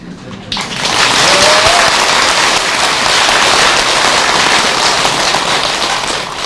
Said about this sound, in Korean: 이 대중들의 이 박수 소리를 잊지 마시고